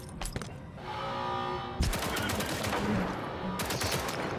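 Gunfire in STALKER 2 comes as a rapid burst of automatic shots at the start, then a sharp loud blast followed by a rattling, echoing barrage fading into noisy combat ambience, with no talking.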